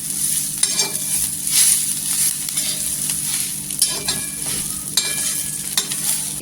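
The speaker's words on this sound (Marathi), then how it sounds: "कोथिंबीर पण छान अशी मसाल्यामध्ये भाजून घ्यायची" Coriander stems and leaves roasting in onion masala in a pan for a spicy egg dish, with a steady close sizzle and frying hiss broken by scraping stirs of a spatula, no talk.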